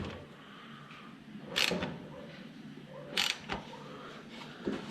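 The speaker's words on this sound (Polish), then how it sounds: "To ja śrubokrętem mocniej dokręcam jak tą grzechotką." A screwdriver tightens metal clamp bands: two or three short creaking, ratcheting bursts of turning metal, fairly close, separated by quiet pauses.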